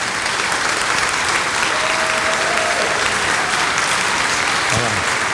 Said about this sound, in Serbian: I ja bih molio jedan aplauz za klapu Ošijak